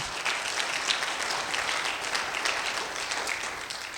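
Church congregation applauds, a steady, even wash of clapping that stays moderately loud and continuous for a few seconds with no voices on top.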